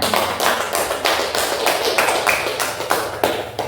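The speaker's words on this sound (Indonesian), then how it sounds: "Coba diberikan tepuk tangannya." Classroom applause follows a student group's presentation, a steady patter of hand claps from a small group lasting several seconds, fairly close and even.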